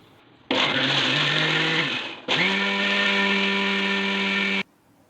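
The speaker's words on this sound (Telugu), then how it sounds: "ఇవన్నీ కూడా బాగా కలిసేలాగా మిక్సీ పట్టుకోవాలి" An electric mixer grinder whirs loudly while blending sponge cake batter, running in two bursts with a brief pause between, a steady high motor whine that cuts off abruptly.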